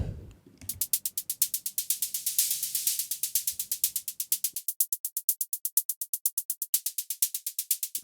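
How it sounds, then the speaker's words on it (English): A fast, steady run of bright hi-hat ticks over a wash of hissing white noise that swells and then drops away, leaving crisp ticks alone. "So here we just have a classic hi-hat sound with that noise."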